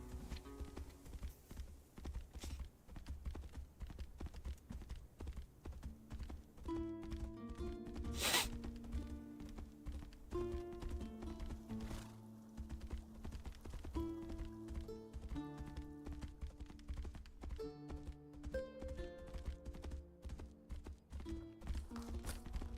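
Hooves clip-clop from a horse in a fantasy role-playing game, quiet rhythmic hoof falls at a walking pace, mixed with faint game sounds and no talking.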